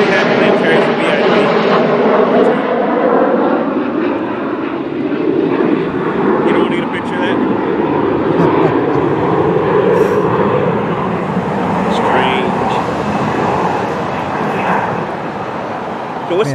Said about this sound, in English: Man, that plane is loud.